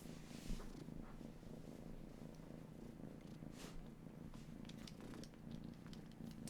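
A house cat named Minou purrs in a continuous low, rhythmic rumble, very close and quiet, with the pulsing breaths steady throughout and no talking.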